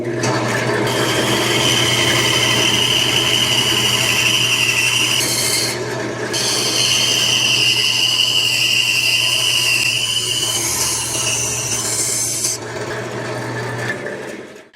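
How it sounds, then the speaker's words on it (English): A bandsaw cuts down through a piece of wood, partway into the middle section of a woodworking project, giving a steady close whine and rasp with a constant low motor hum that drops briefly near six seconds and lightens toward the end. "Now we're going to use the bandsaw to cut this middle part out"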